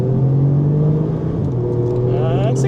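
A 2019 Audi S3 8V hatchback with all-wheel drive accelerates hard on a wet road, its engine droning loud and close, then climbing in pitch near the end as revs build.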